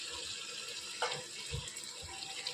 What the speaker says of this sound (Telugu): దీంట్లోకి ఇప్పుడు మనం గ్రేవీకి కావాల్సినన్ని వాటర్ పోసుకుందాం.